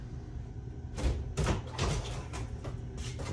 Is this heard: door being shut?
yes